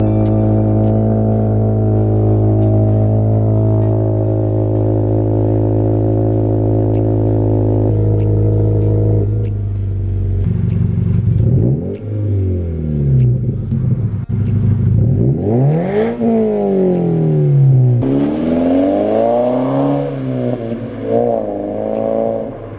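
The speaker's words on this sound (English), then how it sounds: "I'm gonna go ahead and throw up a couple of clips of the exhaust when I had the muffler delete" Subaru BRZ / Toyota 86 with a muffler-deleted exhaust, otherwise stock, idling loudly and steadily before a shift in pitch, then several rising and falling revs with sharp blips, close and loud with no talking.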